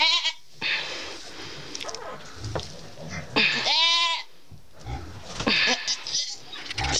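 A goat kid stuck during a difficult birth gives a loud, close, wavering bleat, surrounded by strained animal sounds and someone talking nearby.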